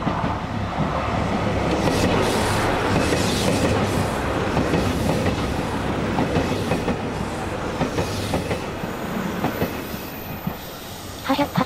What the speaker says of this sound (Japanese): 南風四万十の並結列車が来たぜ